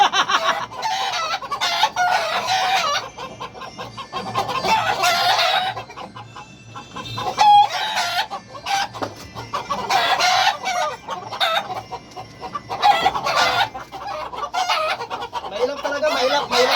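Several white fighting cocks crowing and hens clucking close by in a noisy, overlapping chorus, with a person's voice briefly in the background.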